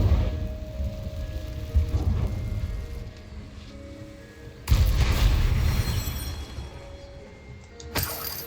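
Incendio fire spells cast in Hogwarts Legacy: sharp bursts of crackling, whooshing fire with booming impacts, one loud blast midway and another near the end, over a rumbling game background.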